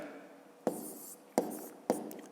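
Handwriting during a maths lesson: three quick, sharp taps of a pen or chalk writing numbers, each followed by a brief scratchy stroke, close and clear against a quiet room.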